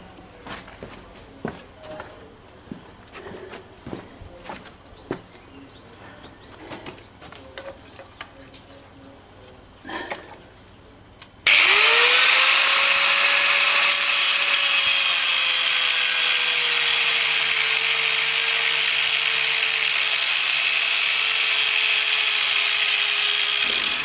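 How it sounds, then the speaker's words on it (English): An angle grinder cuts down a steel seam on a homemade steel barge hull, starting abruptly after scattered clanks and footsteps, then a loud, steady high whine with a slowly falling tone that runs to the end. "So I've got to run the grinder down this seam."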